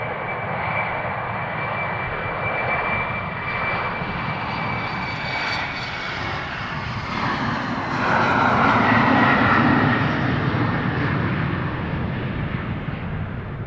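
A continuous loud roar from an aircraft departing runway 36L at Amsterdam Schiphol, swelling slightly toward the end as the jet engine noise builds at close range.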